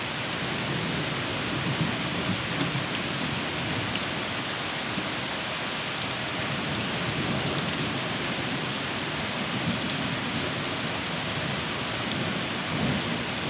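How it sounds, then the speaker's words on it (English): A thunderstorm with heavy lightning roars as steady, dense rainfall, with deep rolling thunder rumbling beneath it throughout, loud and continuous with no voices. "A lot of lightning involved in this storm."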